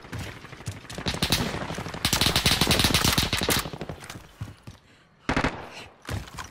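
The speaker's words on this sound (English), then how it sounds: "I'm taking fire!" Gunfire in Warzone, a fast automatic burst rattling close and loud for several seconds, then tapering into scattered shots, a brief silence and a final short volley.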